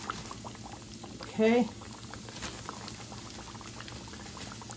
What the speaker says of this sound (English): we're gonna let this fry up